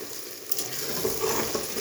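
Onions sizzling steadily in hot oil in a pan for a chicken leg (paya) dish, a continuous close frying hiss with small crackles and a faint stir, no talking.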